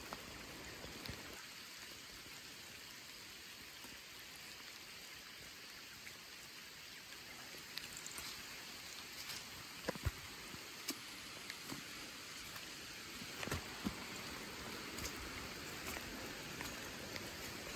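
Steady rain falls on a rural cattle pasture, a continuous soft hiss with scattered drops and occasional louder close patters, no voices.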